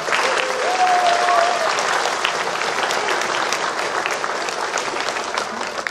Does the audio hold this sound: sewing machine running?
no